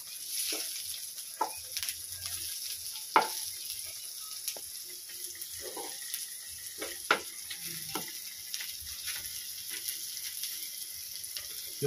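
Banana blossom adobo fries and sizzles steadily in a pan, with a continuous hiss broken by occasional stirring scrapes and clicks of a utensil.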